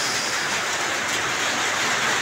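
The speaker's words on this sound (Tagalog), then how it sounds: "Lakas ng ulan idol, oh. Oh. Narinig nyo, lakas ng ulan." Heavy rain drums on a roof near a guardhouse, a loud, dense and continuous rush with no pauses and no voices.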